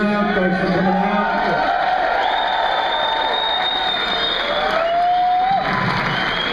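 A comedy show crowd in Poughkeepsie, New York cheers and applauds loudly and continuously, with whoops and shouts rising over the clapping.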